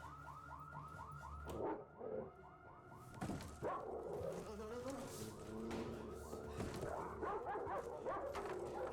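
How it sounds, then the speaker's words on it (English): A house dog barks in bursts over a continuous warbling security alarm, the barks loud and close amid the siren-like cycling, with brief muffled voices mixed in. "They also have a dog, man."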